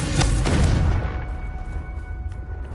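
A Confringo fire spell explodes in Hogwarts Legacy as one loud, booming blast with a crackling burst up front, then a rumbling tail that fades over a couple of seconds, alone with no talk.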